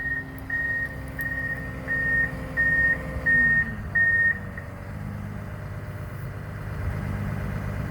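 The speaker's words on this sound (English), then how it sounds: "Mr. Galipeau is actually letting him operate the wheel loader right now" A brand-new Komatsu 270 wheel loader working in snow, its engine idling with a steady mid rumble while a reversing beeper sounds in regular repeated pulses, then stops as the engine note deepens and continues.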